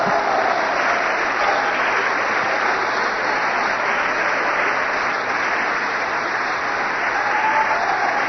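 A church congregation applauding, a dense, steady, loud roar of clapping that holds evenly for several seconds with no pause.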